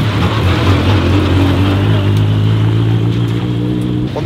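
Mitjet 1300 race cars at the Val de Vienne circuit drone steadily together with a loud, sustained engine hum, holding an even pitch throughout.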